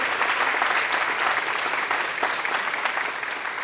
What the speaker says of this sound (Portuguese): Aplauda ao Senhor pela palavra dele